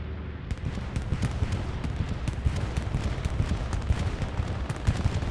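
A bombing run in Hell Let Loose fills the air with dense, continuous rattling bursts of explosions and gunfire, a steady chaotic barrage with no clear pauses.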